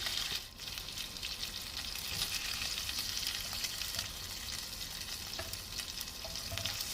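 Chicken tandoori tikka pieces fry in a pan with a steady, close sizzle that holds at an even level throughout, joined by faint occasional stirring clinks.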